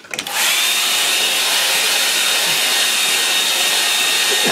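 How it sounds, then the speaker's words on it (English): A hair dryer blows on wet watercolour paint on absorbent paper, switching on with a few clicks and then holding a steady, loud, close airy whoosh with a faint high whine. "So bear with me while I get the old hair dryer."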